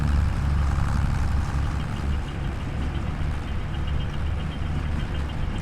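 Tractor engine running steadily in Farming Simulator 25 while working a field, a continuous low rumbling drone at even loudness with no talking.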